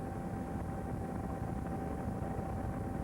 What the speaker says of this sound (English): as we watch one of the famous Westland helicopters of the Royal Navy, who operate in all sorts of weather conditions